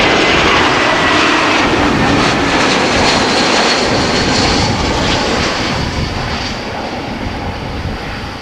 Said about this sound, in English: We've got a 787-10 arriving from Panama City.